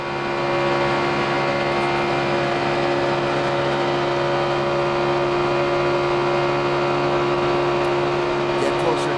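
A NASCAR Sprint Cup stock car engine drones loud and steady from onboard at Talladega in 2011, a sustained high-pitched roar with strong tonal harmonics throughout.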